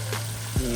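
Shrimp frying in hot oil, a short close sizzle with a brief louder crackle near the end, no talk.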